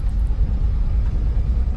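A Volvo V90 wagon's engine runs smoothly, a steady low rumble heard from close range with no knocks or roughness, even and continuous throughout.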